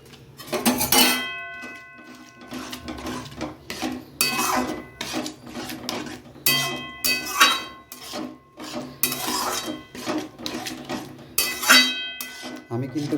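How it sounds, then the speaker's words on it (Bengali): A metal spoon stirs and scrapes egg tadka in a pan over a low gas flame, giving clinking, scraping strokes in an uneven rhythm, close and fairly loud. "এবার গ্যাসের আঁচ কমিয়ে নাড়াচাড়ার মধ্যে রাখতে হবে।"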